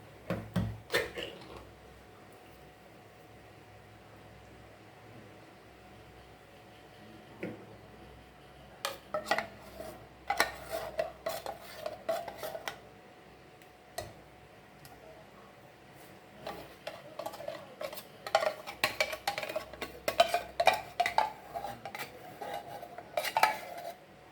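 Coconut peanut punch with condensed milk stirred in a pot, a spoon scraping and clinking against the metal in bursts of irregular clatter, close and fairly loud, with quieter pauses between.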